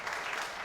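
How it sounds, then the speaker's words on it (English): An audience at a conference panel discussion claps in a brief, dense burst of applause, steady and fairly even, with no voices standing out. "I would like everybody to give a big round of applause"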